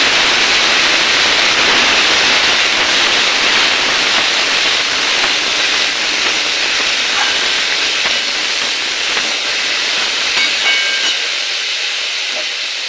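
Lalmi fries in oil in a wok, giving a loud, constant close-up hiss and sizzle that holds steady for several seconds and eases slightly toward the end.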